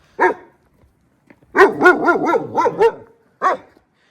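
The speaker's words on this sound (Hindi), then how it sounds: "अब किस पे भौंक रहा है भाई? इतनी रात में कौन आया है?" A German Shepherd barks outdoors at night: one sharp bark, a pause, then a rapid burst of about eight loud barks and a final single bark, with no other sound around them.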